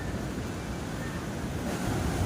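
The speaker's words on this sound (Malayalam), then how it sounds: "ആ വെള്ള തിര കാണുന്നുണ്ടോ?" Ocean waves surge against Varkala cliff in a steady, continuous roar of surf mixed with wind, full and close with no pauses.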